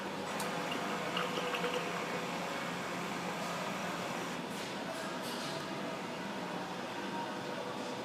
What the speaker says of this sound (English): You can definitely tell the new pump is running.